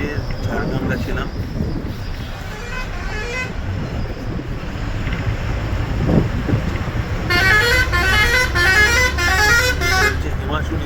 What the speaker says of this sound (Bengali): দেখো বাস স্টার্ট হচ্ছে